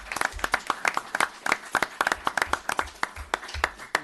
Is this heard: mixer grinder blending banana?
no